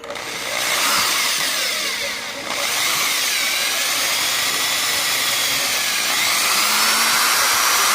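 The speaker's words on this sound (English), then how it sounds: "So I'm just gonna go ahead and start drilling out the rivets." A power drill grinds continuously for several seconds, loud and close, its whine rising and shifting pitch as it drills out metal rivets on a Honda Civic EF hatchback.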